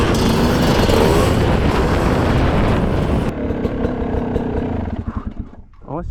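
A Sherco 300 two-stroke motorcycle engine runs loud and close in soft mode, a dense roaring drone that drops back partway through into a lower, uneven idle with sputtering blips near the end.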